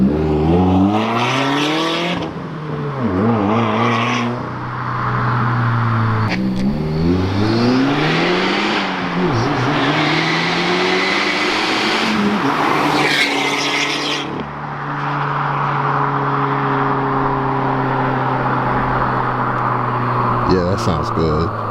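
A 2017 Subaru WRX with a new aftermarket exhaust makes repeated hard revving pulls, its engine note climbing and dropping in loud, close sweeps, while people talk excitedly over it.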